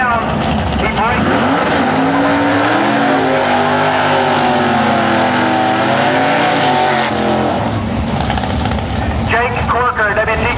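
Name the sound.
drag racing cars at IHRA race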